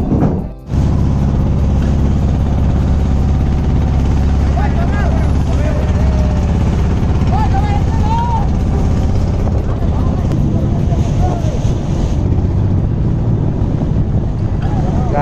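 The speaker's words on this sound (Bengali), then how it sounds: "তো আমরা ট্রলার নিয়ে যাচ্ছি লঞ্চে।" A trawler carrying passengers out to a launch near Chandpur, its engine a steady low drone under wind and water noise, with people talking over it throughout.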